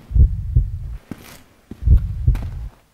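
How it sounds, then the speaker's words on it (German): Heartbeat in the horror game Dungeon Nightmares II: two loud, deep double thumps, each a lub-dub pair, about a second and a half apart, with a low throbbing hum between them and no talk. "Der Herzschlag."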